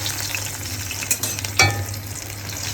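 Chicken and vegetable rolls sizzle and fry in hot oil, a steady close crackle with a brief louder burst as they settle in the pan, no voices.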